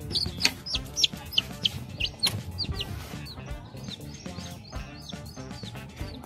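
Chickens in a backyard coop with a red hen nearby, giving repeated sharp clucks and squawks in quick bursts over a busy, faint background; no voices.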